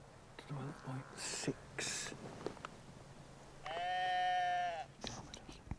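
Sheep bleating as a farmer rounds them up: one long, clear, sustained bleat stands out in the middle, surrounded by shorter scattered farmyard noises at moderate distance.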